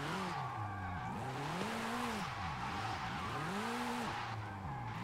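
An in-game car in Forza Horizon 5, on its original engine with the rear wing removed, makes a top-speed run. The engine revs climb and drop repeatedly through a series of gear shifts, with no talking.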